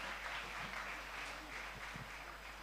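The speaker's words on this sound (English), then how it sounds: "Let's appreciate the chairman one more time with a round of applause." Faint, steady applause from an event audience honouring the chairman at Pwani Innovation Week 2023, a distant wash of many hands clapping without pause.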